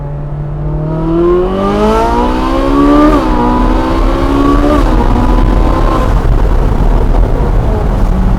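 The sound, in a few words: Ferrari 458 Speciale engine revving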